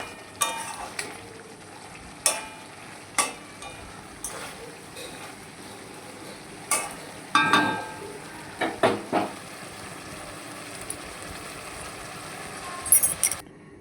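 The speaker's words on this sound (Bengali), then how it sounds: "এটা একটুখানি ভালো করে কষাচ্ছি তারপরে আমি ঝোল দিয়ে দেবো" Chicken being sautéed (kosha) in a pan on a home stove, with soft sizzling under scattered sharp clinks and scrapes of a spoon against the pan at irregular intervals, close by, with occasional voices nearby.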